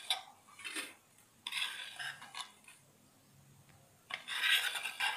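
A metal spoon scrapes golden-brown roasted semolina (suji) out of a pan onto a plate, making several close, gritty rasping bursts separated by brief pauses, with no talking.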